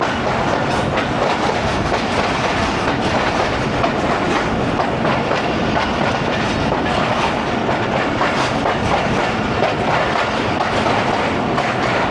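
A train runs steadily along the tracks between Lahore and Narowal, Pakistan, a loud continuous rumble with rhythmic clattering from the wheels, heard up close from on board.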